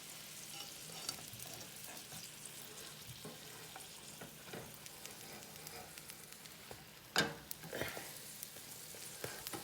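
An omelette fries in a pan with a steady, quiet sizzle, broken by a few soft scrapes and one sharp clink of a utensil against the pan near the end.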